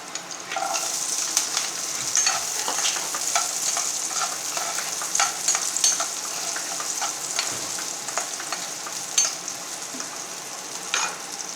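Onions with curry leaves fry in an oil-filled pan for an egg fry, giving a steady close sizzle and crackle with occasional scraping stirs throughout, with no voices.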